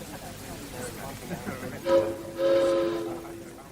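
A steam train whistle sounds twice in short bursts, the second longer, as an effect in a club done up like an old railway station, over low background murmur.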